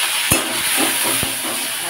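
Asafoetida tempering sizzles in hot potato-frying oil in a pan with tomato, making a close, steady hiss broken by a few sharp stirring knocks.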